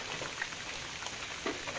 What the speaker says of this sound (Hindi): सकाल सकाल पूरा वर्षा वर्षा बहुत जोर से